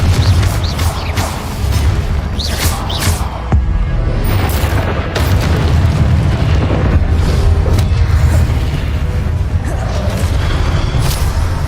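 Confringo fire spell blasts go off in Hogwarts Legacy, deep booming bursts with crackling debris over a constant loud game soundscape, repeating several times without talk.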